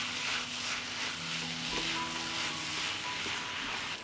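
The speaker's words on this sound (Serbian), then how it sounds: "Sve ću ovo promešati i pržiti na nižoj temperaturi 30 minuta" Shredded cabbage with sweet ground red paprika frying over low heat in a pan while being stirred, a steady close sizzle with faint scraping of the spoon and occasional utensil clinks.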